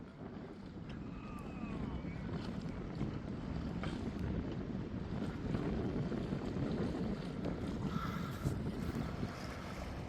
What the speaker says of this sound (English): Just casually sailing through the mooring field.